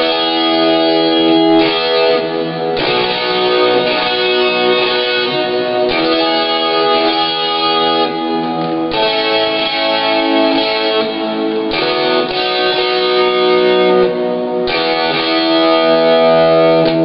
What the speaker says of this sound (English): I'm getting some crunchy kind of distortion, especially on the lower strings